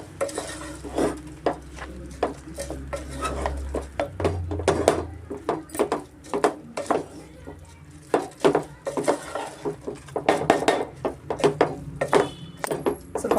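Basmati rice being stirred and fried with masala in a pot for mutton biryani, a steady series of scraping spoon strokes against metal with a soft sizzle underneath, close and rhythmic throughout.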